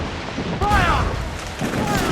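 A ship's cannon fires during a sea battle in Assassin's Creed 4 Black Flag, a loud thump and rumble rising over wind noise while someone shouts over it.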